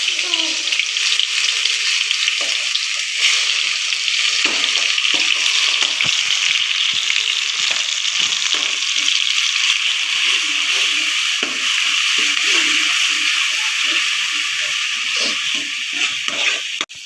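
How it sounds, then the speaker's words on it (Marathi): Mashed onion frying in oil in a pan, a steady loud sizzle and crackle that runs unbroken throughout with light stirring scrapes. "कांदा फ्राय होत आहे"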